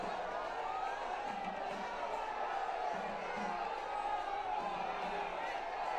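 A dense crowd cheers and roars steadily at Prime Minister Modi's roadshow in Kochi, Kerala, a continuous loud wash of voices with scattered whoops and no break throughout.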